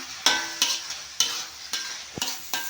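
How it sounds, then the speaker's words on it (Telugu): Ginger paste and tomatoes fry in a pan with a steady sizzle. Close, sharp spatula strokes come about every half second. "అల్లం పేస్ట్ టమాటాలు కూడా వేసినా"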